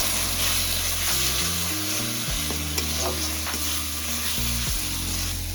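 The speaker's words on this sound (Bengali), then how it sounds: "দিয়ে এটাকে ভালোভাবে কষিয়ে নিতে হবে" Turmeric and chili powder sautéing in hot oil for a chitol fish curry, a steady, loud sizzle and frying hiss with a constant cooking hum beneath, no voices.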